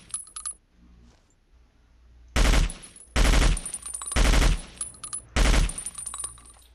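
Gunfire in the video game Battlefield Vietnam: four loud bursts of rapid shots in quick succession, preceded by faint clinking and quiet background.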